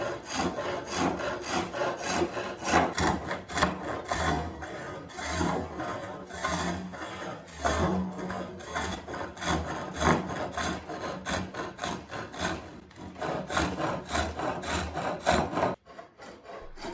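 A skew chisel cuts a wooden desk leg turning on a spring pole lathe, giving rhythmic, scraping strokes that pulse back and forth with each treadle cycle, close and steady throughout.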